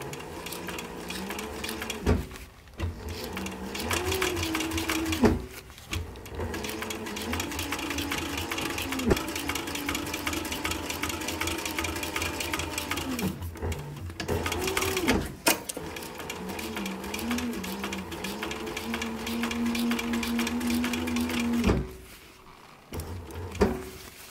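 Sewing machine top-stitching the seams of a leather short-brim cap, running in long steady bursts separated by brief pauses, close and fairly loud with a continuous whirring drone.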